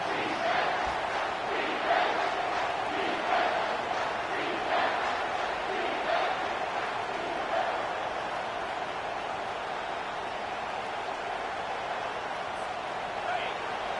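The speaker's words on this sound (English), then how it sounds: "This crowd rising up, sensing that its defense needs some help." A college football video game crowd at a Texas vs FSU matchup roars steadily and loudly for the whole stretch, a dense wash of cheering with faint voices mixed beneath it.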